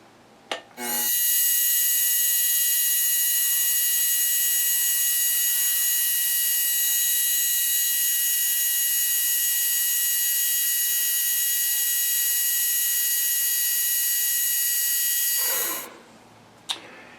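A small drill, sized about a thou over a number 68 bit, boring a hole in metal for a spring guide: one steady high-pitched whine held for about fifteen seconds, close and loud, starting and stopping abruptly, with no talk.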